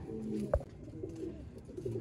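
A breeding pair of pigeons, a male and a black-faced female, gives soft, low cooing close by, with a short throaty coo standing out amid a continuous murmur.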